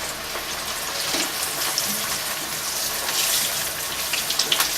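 Dal matar kachori dough rounds fry in hot oil with a dense, steady sizzle and crackle that holds constant throughout, with faint clinks from a utensil.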